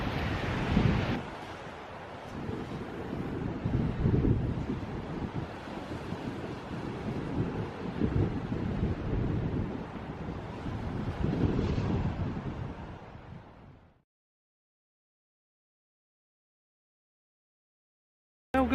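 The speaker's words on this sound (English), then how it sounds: "we're outside in the dark in a bitterly cold wind" Bitterly cold wind gusts outside in the dark in Scotland, a loud steady roar buffeting the microphone for about fourteen seconds before cutting to silence.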